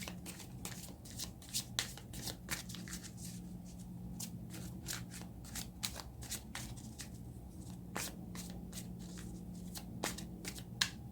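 A deck of tarot cards being shuffled by hand, a steady run of crisp riffling slaps and flicks that goes on for several seconds, close up with no voices.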